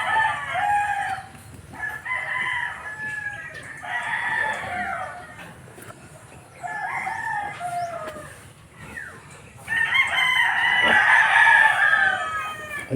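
Chickens and roosters on a family farm in the provinces, clucking and crowing in several bursts, with a loud, close crow near the end over a steady low farmyard hum.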